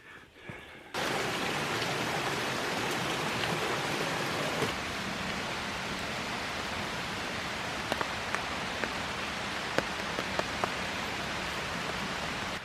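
Rain pours steadily onto a tarp outdoors, a dense continuous patter with occasional louder drips striking nearby, starting after a brief quieter moment.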